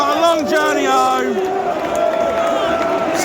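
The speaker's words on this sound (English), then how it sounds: "And something for these Bournemouth fans to cheer." Bournemouth away supporters roar and whoop for a goal at the Etihad, a dense, loud crowd cheer with chanting voices rising early and then holding at a steady stadium roar.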